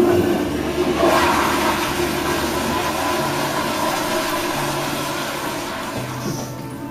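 A toilet flushing in a restroom, a loud continuous rush of water close by that stays strong for several seconds before slowly easing off.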